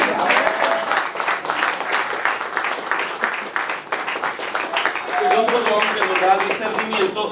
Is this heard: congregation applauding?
yes